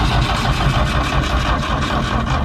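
The engine of a vintage van cranks over fast and steadily, a loud, close, rhythmic churning that continues evenly throughout without catching.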